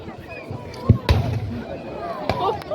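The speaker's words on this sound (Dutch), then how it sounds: "Et l'artillerie alliée est en train de riposter." Cannon fire at a Waterloo battle reenactment: a few sharp booming blasts with echoing tails at the outdoor battlefield, heard amid crowd murmur and a commentator's voice.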